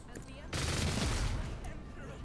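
Gunfire in the video game Warhammer 40k Rogue Trader during a battle, a sudden dense burst of shots erupting after a quiet start and sustained loudly to the end.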